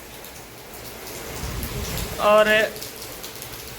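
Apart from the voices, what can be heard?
heavy rain falling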